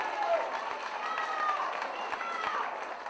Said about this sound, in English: give him a round of applause right there